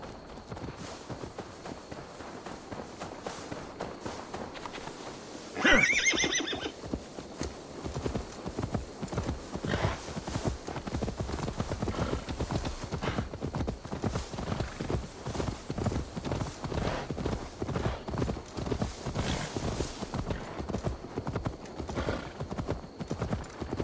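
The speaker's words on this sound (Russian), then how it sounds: "Теперь надо вернуть лошадь Магли." Horse hooves clip-clopping in a steady walking rhythm through a video game scene, with one loud neigh early on; the hoofbeats stay close and continuous to the end.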